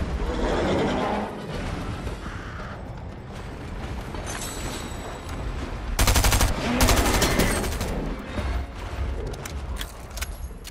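Gunfire in Fortnite aimed at a dinosaur crackles in rapid bursts over game noise, with the heaviest volley coming past the midpoint.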